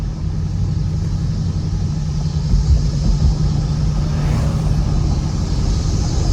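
Steady, loud low rumble of a 2019 Ford Mustang GT V8 with an X-pipe exhaust while cruising through city streets, a continuous droning tone with a slight swell midway and no talking.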